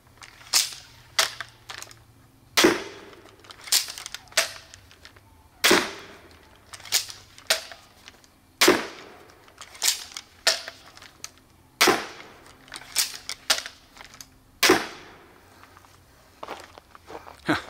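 An Adder crossbow shot repeatedly during a home-defense test: sharp snapping releases with quick mechanical clacks between them, firing in an irregular but steady rhythm of a dozen or so loud, close shots and no talking.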